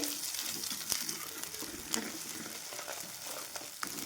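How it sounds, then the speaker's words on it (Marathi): Ground masala paste sautéing in hot oil with mustard seeds and cumin, a steady close sizzle with a few sharper spatters and faint scraping. "राई आणि जिरं टाकायचं जे आपण वाटण बनवलं आहे ना ते पण तेलामध्ये छान परतून घेते"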